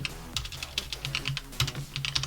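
Quick, irregular typing on a computer keyboard, close and clear, with bursts of keystrokes and short pauses as a database query is entered in Microsoft Access.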